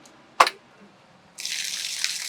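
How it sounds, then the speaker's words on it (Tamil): A borewell pump motor switches on with a sharp click, then after a short pause water gushes out in a loud, steady, hissing stream, with no talking. "இப்போ மோட்ரு போடுறேன் பாருங்கள்"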